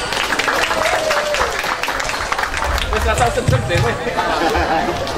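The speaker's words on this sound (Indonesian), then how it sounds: "Beri tepuk tangan yang meriah." Crowd applause at an inauguration ceremony in Temanggung, Indonesia: steady clapping and crowd chatter spread evenly through the whole stretch, with an announcer's voice over it.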